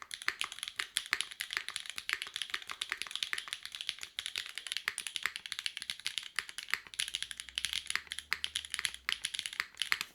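Typing on a Schema M60 mechanical keyboard, a steady run of crisp, close keystroke clicks and clacks continuing without pause, with no voices.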